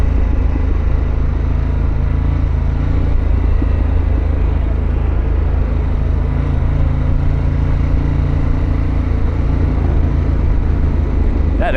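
Harley-Davidson Pan America motorcycle with Vance & Hines and Akrapovic aftermarket exhaust, its engine rumbling steadily and loud throughout at a low, even drone while riding, with no talk over it.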